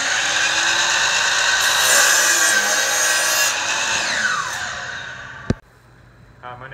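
A compound miter saw cuts a wooden sconce project down to size, a loud, steady whining cut that winds down over several seconds, followed by a sharp knock and a quieter tail.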